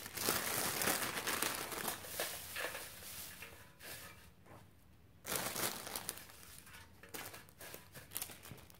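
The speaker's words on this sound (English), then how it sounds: "I also picked up this green decorative shred because this is going to be the base" Green decorative shred for a gift basket is handled up close, giving dry crinkling and rustling in irregular bursts with a short quieter pause midway, alone and fairly soft.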